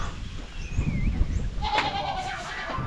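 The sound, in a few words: goats bleating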